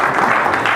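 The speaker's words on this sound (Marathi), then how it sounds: "त्यांच्यासाठी जोरदार टाळ्या होऊ द्या" An audience breaks into applause, a steady dense wash of clapping with no voices over it, loud and close for the whole short stretch.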